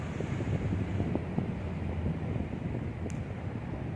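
Strong wind roars steadily across the open sea aboard a fishing boat out for mackerel, a dense continuous blustery rush with low rumbling gusts and no voices.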